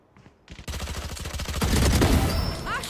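Gunfire in the tactical shooter Valorant starts with a few quiet clicks, then breaks into rapid automatic bursts that build into dense, loud, continuous shooting, close up with a faint chirping effect near the end.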